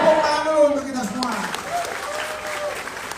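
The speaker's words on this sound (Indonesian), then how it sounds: "Tepuk tangan dulu untuk kita semua" Audience applause at a lively Indonesian town-hall style political event, clapping through the hall while a voice talks over it, the clapping fading under the speech.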